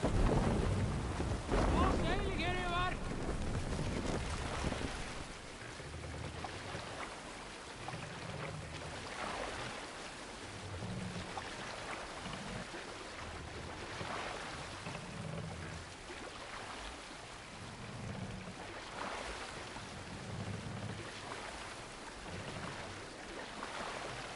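Longship sailing at sea in the video game Assassin's Creed Valhalla, a steady wash of wind and water with rumbling surges, a brief creak or clatter near the start, and low chanting voices throughout.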